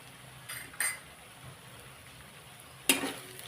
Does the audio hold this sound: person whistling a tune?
no